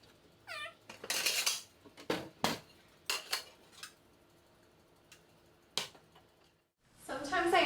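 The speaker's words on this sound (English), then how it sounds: "now we're just gonna plate everything." Food being plated with utensils and dishes while cooking furikake salmon, stovetop rice and spinach: sparse close clinks, scrapes and knocks of cutlery against plates and pans, separated by quiet gaps, with a brief high cat-like sound early on.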